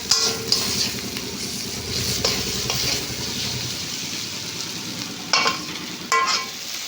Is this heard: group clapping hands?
no